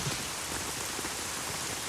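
Steady rain hisses and patters across a surface throughout a film scene, a dense, even wash of drops with no voices.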